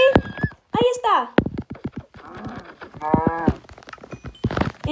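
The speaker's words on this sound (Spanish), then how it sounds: "¡Mira, un caballo! ¡Perfecto! Y ahí hay una vaca." Blocky game animals in Minecraft: a horse whinnies and clip-clops and a cow moos, in short bursts mixed with excited talking.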